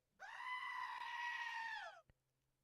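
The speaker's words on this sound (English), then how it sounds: "Goat's not loud enough." A single long goat bleat plays as a sound effect, a loud, strained cry lasting nearly two seconds that ends abruptly, followed by a brief click.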